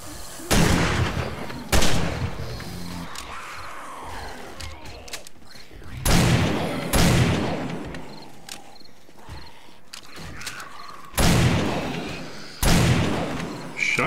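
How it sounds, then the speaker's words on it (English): A shotgun firing at zombies in 7 Days to Die during horde night, heavy booming blasts spaced a second or more apart, some paired, each leaving a rumbling tail, with a voice talking between shots. "Shotgun is making short work of these guys"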